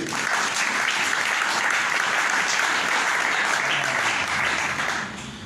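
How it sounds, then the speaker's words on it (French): A church congregation applauds together in sustained, dense clapping that holds steady for about five seconds before easing off at the end. "Si nous pouvons applaudir notre Dieu."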